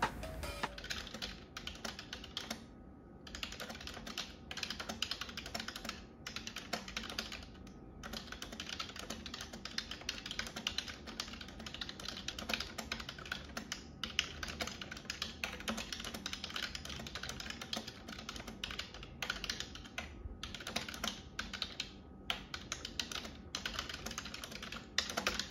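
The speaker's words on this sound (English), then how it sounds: "Here are some typing sounds and also a monkeytype.com test." Fast typing on a Logitech K480 wireless keyboard during a typing test: quiet, rapid, continuous key clicks with brief pauses, close up and alone.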